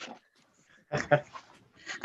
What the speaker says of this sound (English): He's half lab and half Alaskan Malamute.